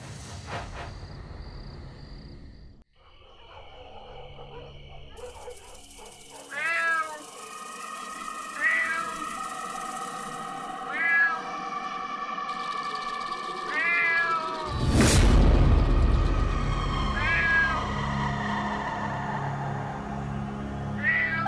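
A cat meows repeatedly, several short rising calls spaced a couple of seconds apart over steady background music, with a louder burst of sound partway through.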